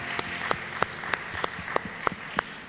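A church youth service congregation gives thanks to God with rhythmic, evenly spaced claps in unison, steady and fairly close in a reverberant room, with no talking.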